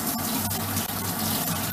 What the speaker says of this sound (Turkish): Dediğim gibi her seferinde de elimi yıkayacağım.